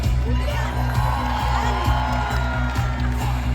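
A crowd cheers and whoops at a celebration for Finland's ice hockey world champions, a steady roar over thumping music with a heavy, pulsing beat.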